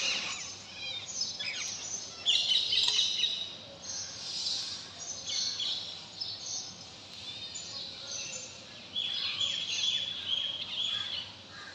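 Parrots call outside a home kitchen, a steady stream of shrill squawks and chirps at moderate distance over continuous background noise, with no clear talking.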